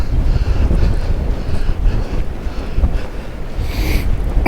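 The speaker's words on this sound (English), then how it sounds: "get out of this wind" Strong wind buffets the microphone on James's Island, a constant low roar with gusts rising and falling throughout, no voices heard.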